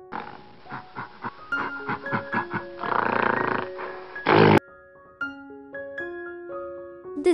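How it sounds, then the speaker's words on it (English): A gorilla makes a run of short grunting calls that build into a longer, rougher vocal burst, then stop. Gentle tonal music plays afterward. "This is gorilla."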